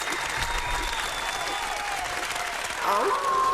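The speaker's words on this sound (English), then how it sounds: "Clap it up, clap it up. Clap it up for hip hop." Studio crowd claps for hip hop in a loud, continuous wash of applause, with a voice and some music-like tones rising near the end.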